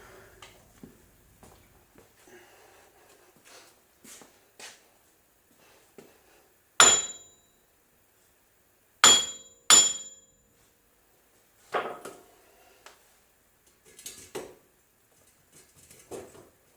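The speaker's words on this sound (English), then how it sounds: "I'm going to grab the hammer. We're going to give this a whack." A hammer whacks a wheel hub on a 1999 Jeep Cherokee XJ, sharp metallic strikes spaced irregularly, three loud blows standing out among several quieter taps and clinks in an otherwise quiet garage.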